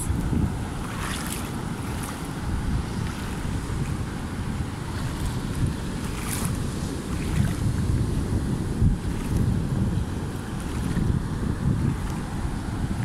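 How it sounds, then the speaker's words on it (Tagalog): Steady rushing ocean waves at Patar White Beach, strengthening, with heavy wind buffeting the microphone, continuous and fairly loud, no voices. "Lumalakas na yung alon dito, guys."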